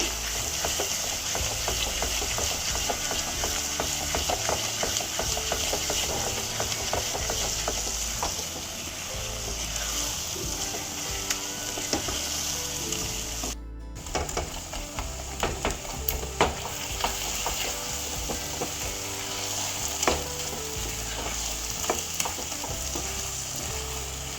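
Food fries in plenty of ghee with a continuous loud sizzle and repeated stirring scrapes, with a brief drop partway through, no speech.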